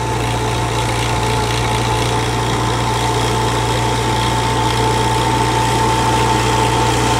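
Iseki TS3910TC tractor engine running steadily while tilling a wet, flooded field, a constant close diesel drone and vibration with no change in pace throughout.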